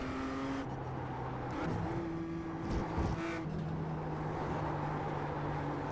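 A BMW M2 CSR race car drives in the iRacing simulator, its engine holding a steady tone that shifts pitch as gears change and revs rise and fall, moderately loud with no talk.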